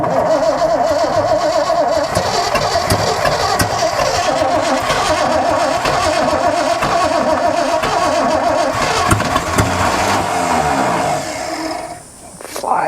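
A 1963 Chevrolet C-20 engine with no fan and no coolant cranks, fires and runs roughly and loudly up close, with a voice heard over it before it dies near the end.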